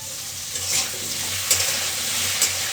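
Sun-dried food frying in a pan in a home kitchen, giving a steady close sizzle with a few soft stirring scrapes and no talk.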